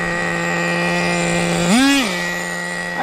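Small motor of a vintage 1985 Kyosho Integra RC van running at a steady buzzing idle, close and continuous, with one brief rev rising and falling midway.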